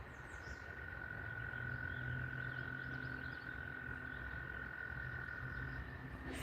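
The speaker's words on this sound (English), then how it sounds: "Guys hear the frogs and stuff?" Frogs croak in the wild, a steady chorus of trilling calls that holds at an even level over quiet natural ambience, ending with a sharp bump.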